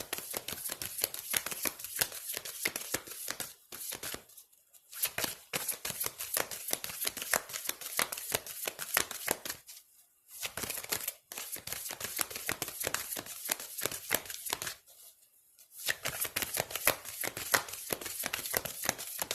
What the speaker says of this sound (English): So these are our soul purpose cards that I'm shuffling now.